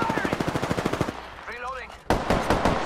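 Rapid automatic gunfire in Apex Legends, a fast, loud, evenly spaced burst of shots that stops abruptly, followed by a brief pause and a dense resumption of firing.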